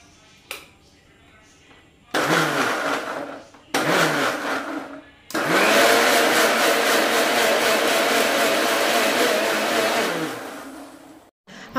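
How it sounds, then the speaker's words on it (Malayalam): A kitchen mixer grinder blending hot ingredients runs in loud whirring bursts: two short pulses, then a long continuous run of about six seconds before it stops. "ഈ മിക്സിയുടെ ശബ്ദം എങ്ങനെയുണ്ടെന്നൊക്കെ ചോദിച്ചതുകൊണ്ട് ഞാൻ ശബ്ദം ഒന്ന് കേൾപ്പിച്ചാണ് കേട്ടോ"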